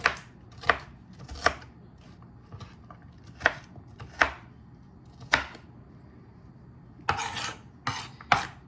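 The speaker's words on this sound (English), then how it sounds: "Just a rough chop on our onion." Knife roughly chopping an onion on a cutting board, about a dozen sharp, evenly spaced chops close by, with a quicker cluster near the end and no talking.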